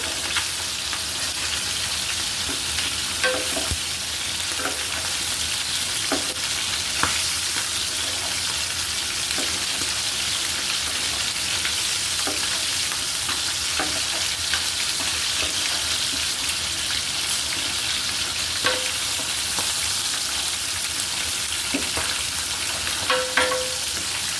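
A whole fish fries in extra oil over medium heat, giving a steady, even sizzle throughout with scattered small pops and crackles.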